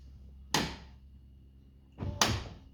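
A Tesla Model 3 car door is shut and latches with two sharp thuds. The first is a single close slam; the second, a moment later, is a doubled shut-and-latch impact. Quiet pauses separate them.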